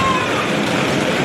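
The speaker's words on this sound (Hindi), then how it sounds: "यहाँ तक पानी आ रहा है।" Rainwater pours and splashes down onto house stairs during a heavy downpour, a dense, loud, continuous rushing wash with a voice faintly mixed in.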